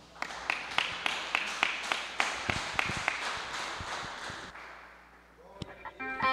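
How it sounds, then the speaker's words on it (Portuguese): Congregation clapping in rhythm during a church worship service, with sharp, evenly spaced claps and a few taps that fade out, followed by a brief tonal sound near the end. "As palmas louvam ao Senhor."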